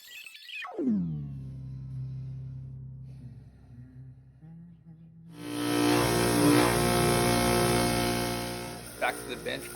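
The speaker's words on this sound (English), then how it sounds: "I will go piece by piece, bit by bit, grinding off the sections in between." A bench grinder shapes a metal blank into an Abloy Classic lock pick. The motor whines down at first and settles into a steady hum, then harsh, loud grinding of metal against the wheel takes over partway through.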